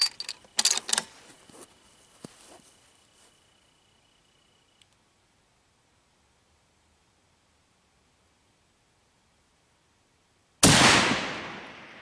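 Shots from a .308 Winchester rifle loaded with cast bullets, fired at a target 500 yards away: a cluster of sharp cracks at the start, then quiet, and a loud, abrupt blast near the end.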